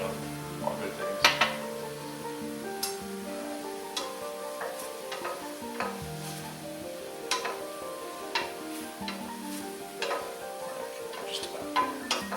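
Mushrooms and thyme cooking in a pan for a soup: a soft, steady sizzle with frequent clinks and scrapes of a utensil stirring against the pan, close and moderately quiet.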